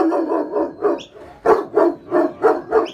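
Farm dogs bark in a run of repeated, close barks at a fundraising bark-up outside a hotel, with a short pause midway before a louder, steady volley.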